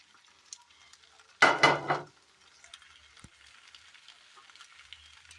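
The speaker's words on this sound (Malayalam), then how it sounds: "നന്നായി ഒന്ന് മിക്സ് ചെയ്തെടുക്കാം." A spoon stirs salt, turmeric powder and lightly sautéed ingredients together in a pan, with one brief, louder burst of scraping and rustling, then a faint, quiet sizzle.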